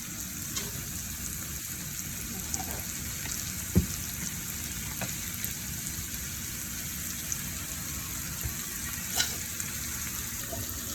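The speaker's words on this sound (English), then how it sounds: "So while the onions and pepper are cooking" Chopped onions and green pepper sauté in a pan with a steady, quiet sizzle, broken now and then by faint clicks and taps, and no one speaks.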